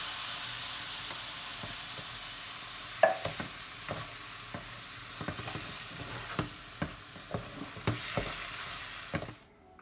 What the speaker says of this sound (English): Add in the chopped tomatoes to the pan and stir this in.